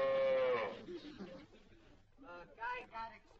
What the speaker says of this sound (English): Get that cow out of here.